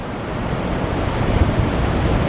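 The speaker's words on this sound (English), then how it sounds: "there's a lot of water that was held back that is now flowing out" Tidal water rushing out of the St Lucia Estuary mouth into the ocean at high tide, a steady, loud, broadband roar of churning surf that holds without a break and has no voices over it.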